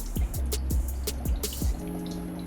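Rice vinegar is poured into a pot of pork, making about four close, liquid glugs and drips in quick succession, then a short steady trickle.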